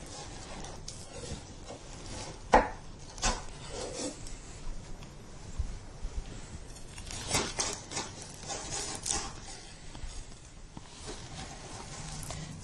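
A chef knife trims the edges of a pan of Earl Grey blondies, giving soft scraping and light tapping cuts close by, with one sharper knock partway through.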